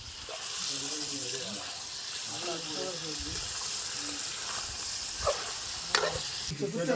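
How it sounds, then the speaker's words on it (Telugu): Salted mutton curry is stirred in a pan during rainy-day cooking, giving a steady sizzle and scraping bed throughout, with a few sharper clinks of the spoon near the end and voices talking over it. "తగినంత ఉప్పు వేసుకొని మళ్ళీ ఒకసారి కలిగి తిప్పుకోవాలి ఉప్పు అంతా పట్టే విధంగా"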